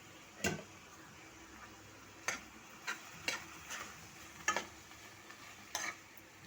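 Cooked rice being stirred through a pan for gongura pulihora, with salt and dried red chillies already in, giving a run of sharp scraping spoon strokes at irregular intervals over a soft background hiss, close by, with no talking.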